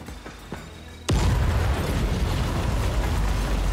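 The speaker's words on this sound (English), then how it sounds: "Fire in the hole!" A thrown explosive in Dying Light 2 detonates with a sudden loud boom, after a second of quiet clicks and small taps, then leaves a long, dense roaring rumble that holds steady to the end.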